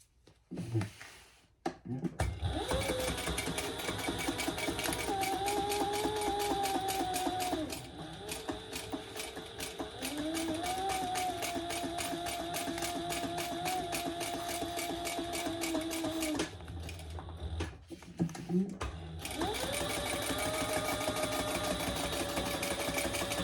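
A sewing machine stitches a cork fabric bag in long steady runs of rapid, close, mechanical whirring, stopping briefly between seams with a few clicks and handling sounds.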